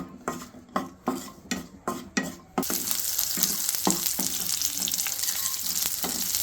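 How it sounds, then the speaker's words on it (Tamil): Stirring and scraping in a pan for a couple of seconds, then a loud, steady sizzle as small onions (shallots) and curry leaves hit hot oil, with occasional utensil clinks. "அந்த சின்ன வெங்காயமும் கருவேப்பிலையும் போட்டு எண்ணெயில் போட்டுக்குங்க வதக்கிக்கலாம்"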